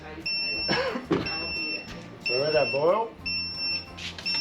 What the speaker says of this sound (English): That's the alarm on the Grainfather, guys, telling us we're at 100 degrees.